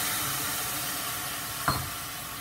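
Carrots and beans sauté in a pan after a splash of water goes in, a steady steamy sizzle with one brief, sharper burst partway through.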